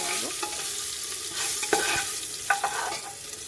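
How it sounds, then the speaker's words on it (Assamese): Chicken sizzles steadily over low heat inside a pressure cooker while a spoon stirs it, with soft scraping clicks and knocks over the constant frying hiss. "চিকেনখিনি কুকাৰত দি দিব। চিকেনখিনি এনেকৈ কম জুইত ভাজিব।"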